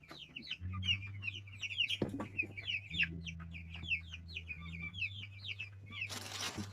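Several chickens cluck and chatter in short repeated bursts near a farm pen, with a low steady hum underneath and a brief rustling noise toward the end.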